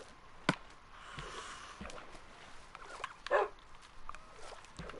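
Dog barking in the video game Minecraft, a few short sharp barks scattered through a busy, low-level game background, with no speech in the clip.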